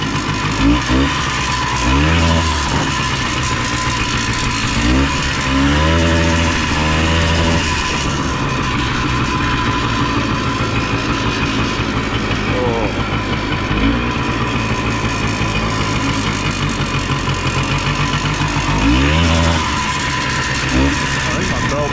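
A rare Polaris three-wheeler's engine running after being unloaded: a loud, steady motor drone with rising and falling revs, and someone speaking over it at times.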